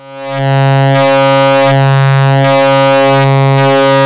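Ramp-down wave run through an AJH Synth V Shape waveshaper Eurorack module, a loud steady buzzing tone with a slow pulsing wobble, fading in quickly then holding alone.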